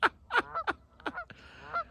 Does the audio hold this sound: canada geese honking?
yes